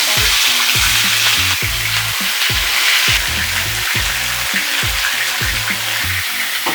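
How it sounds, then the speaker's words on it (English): Chicken pieces fry in hot oil, a loud, continuous crackling sizzle with repeated bursts of popping and spattering close by, with no voices. "I'm about to put the chickens inside the oil because it's already hot."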